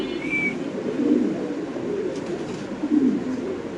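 Pigeons coo softly at a pigeon market, with a few low, rounded calls rising over a steady crowd murmur and background hubbub.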